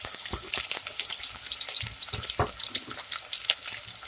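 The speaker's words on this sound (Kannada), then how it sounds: "ಕಟ್ ಮಾಡಿರೋ ಈರುಳ್ಳಿ ಹಾಕ್ತಾ ಇದ್ದೀನಿ" Chopped onions hit hot oil for chicken biryani, producing a loud, crackling sizzle up close with irregular spattering pops and a couple of stirring knocks.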